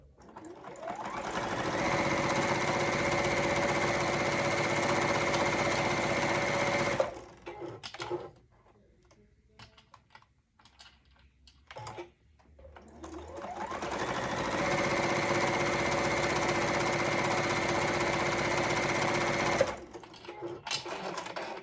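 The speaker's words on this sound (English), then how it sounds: "then you sew down each line" A sewing machine stitches quilt fabric along marked lines in two long steady runs, with a close, even motor hum and rapid needle rhythm and a short quiet pause between them.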